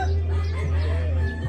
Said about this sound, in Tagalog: Mga inahin po yan.